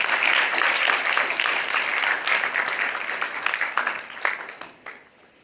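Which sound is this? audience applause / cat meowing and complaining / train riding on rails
audience applause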